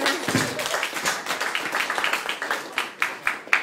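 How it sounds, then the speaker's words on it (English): Audience applause at the end of a hypnotist's stage show, dense clapping from a room of people with some individual claps standing out near the close. "This round of applause, which is for you."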